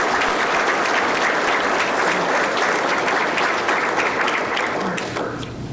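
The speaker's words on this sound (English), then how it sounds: "So if we could give a round of applause for our Small Business Council." A room of attendees at a chamber of commerce small business awards breakfast gives a steady, full round of applause that holds loud for several seconds, then begins to thin out at the end.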